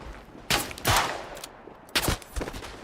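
Gunfire in a World War I video game on the Eastern Front at Tannenberg: a handful of sharp, loud single-action rifle shots spaced irregularly and slowly, with no speech over them.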